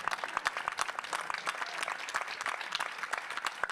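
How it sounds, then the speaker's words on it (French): An audience at a sports-themed conference applauds a double Antilles-Guyane champion, with loud, dense, sustained clapping and sharp individual claps throughout. "Hélène, Sous vos applaudissements, s'il vous plaît"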